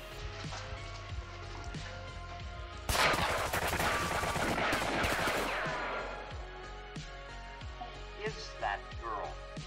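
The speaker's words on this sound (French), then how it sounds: "elle arrête pas de tirer sur lui, c'est assez délire quoi" Gunfire from a film scene with Carrie Fisher, in which a woman keeps shooting at a man. A loud, dense burst of rapid shots erupts after a quieter stretch and then trails off under a music-like background.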